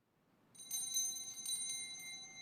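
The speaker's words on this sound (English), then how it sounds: "It is also customary for the server to ring a bell as they enter to alert the people that Mass is beginning." A small hand bell rung by an altar server at the start of Mass chimes brightly in a few quick clusters of strikes, its ringing tone lingering in a quiet church with no voices.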